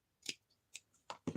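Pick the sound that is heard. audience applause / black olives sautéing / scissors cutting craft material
scissors cutting craft material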